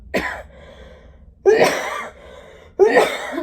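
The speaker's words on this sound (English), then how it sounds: "Hang on, I got a cough." Three harsh coughs, close and loud, spaced about a second and a half apart, with quiet in between.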